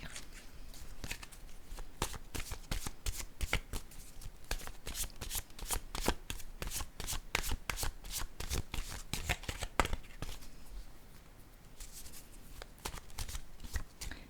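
A deck of cards is shuffled before a card is drawn, producing a long, dense run of rapid riffling flicks, close and steady, with no talk.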